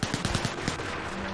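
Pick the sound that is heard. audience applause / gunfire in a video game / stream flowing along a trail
gunfire in a video game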